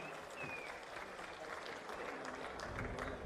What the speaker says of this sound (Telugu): గట్టిగా చప్పట్లు కొట్టి అభినందించండి.